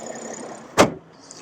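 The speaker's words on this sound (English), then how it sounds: "Alright, we'll just drop the hood." Hood of a 2023 BMW M340i xDrive in Melbourne Red being dropped shut, a single sharp, fairly loud thump after a quiet moment of background room noise.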